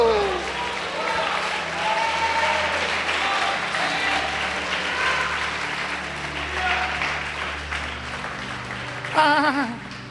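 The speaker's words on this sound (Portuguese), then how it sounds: "Pode aplaudir o Senhor." Church congregation applauding steadily during a Pentecostal-style faith service, sustained clapping over ten seconds with voices and a preacher's talk mixed underneath.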